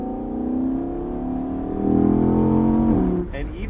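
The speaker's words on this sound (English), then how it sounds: "Let's fire it up." A 2022 Audi R8 Performance Spyder, rear-wheel drive, fires up in comfort mode, its engine catching with a loud close bark and settling into a steady rising rev before the note drops off near the end.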